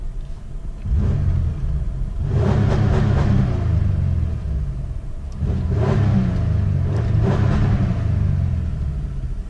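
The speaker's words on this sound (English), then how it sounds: "I want to rev the car for you guys so you can hear how healthy it sounds." A GTP car engine revs hard twice, each rise a loud roaring vroom that falls back to a rumbling idle between bursts, close by.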